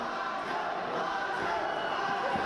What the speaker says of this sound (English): And the crowd chanting macho.